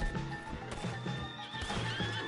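A horse neighs in Red Dead Redemption 2, a loud whinny over continuous game ambience with faint background tones and low rumbling throughout.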